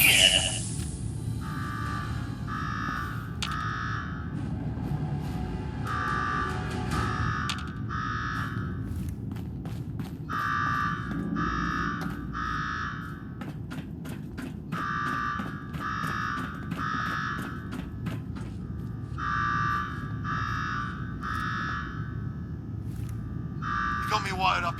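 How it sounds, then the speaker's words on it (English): An alarm in the video game Fallout 4's Nuka-World blares in repeating groups of bright, evenly pulsed tones over a low hum, carrying on throughout while characters talk over it. "Now go shut off that damn alarm."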